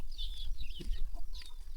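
Chickens at a rural Katu village home in Laos, only two or three birds, cluck softly and intermittently against a steady low rumble of background noise.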